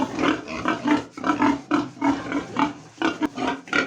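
Breeding sows on a farm grunt and snort in a steady, close series of rhythmic bursts, without speech.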